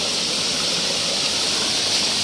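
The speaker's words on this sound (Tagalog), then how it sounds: "Another exit ng tubig yan. Another ilog na maliit." A small spring-fed stream at Nasuli Lake in Valencia, Bukidnon, flows in a steady, close rushing hiss with no break and no voices.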